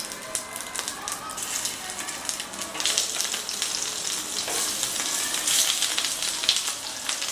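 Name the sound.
stuffed bitter gourds frying in mustard oil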